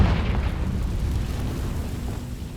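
A fiery Confringo blast spell in Hogwarts Legacy bursts at the start and rolls into a loud, rumbling boom that slowly fades over a couple of seconds.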